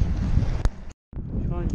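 Strong headwind buffeting a microphone on a bicycle climbing a slope on the road into Sinop, a steady low roar that cuts out briefly, with a voice speaking faintly underneath.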